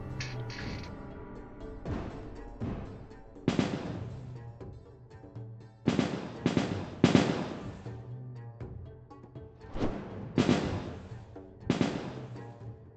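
Gunners in the game ToME fire a series of sharp, punchy shots from both sides, with irregular cracks and booms rising over a steady musical background.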